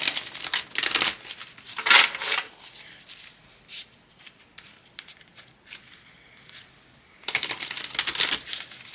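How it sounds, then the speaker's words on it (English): Tarot cards being riffled and shuffled up close, with bursts of fast flapping at the start and end and softer sliding and tapping in between. "Shuffle some of these cards."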